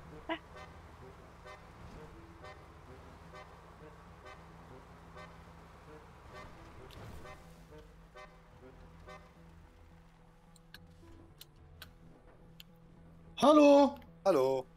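Two short, loud horn blasts ring out close by in GTA Online near the end, after a long stretch of quieter game engine hum and ambience.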